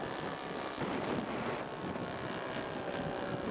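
Scale model airplane making a flyby at a scale aircraft show, a steady engine drone blended with heavy wind noise on the microphone, held at a fairly constant level throughout.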